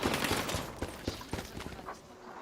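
Incoming gunfire aimed at the player in a World War 3 shooter, a fast cluster of sharp cracks and bursts, fairly close, trailing off into quieter background battle noise without speech.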